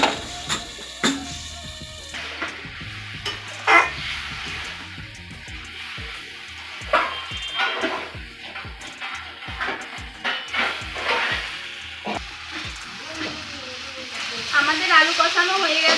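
Potato chunks being sautéed in a pan for a thin rohu fish curry, with repeated scraping stir strokes and a steady sizzle of frying, the sizzle swelling louder near the end.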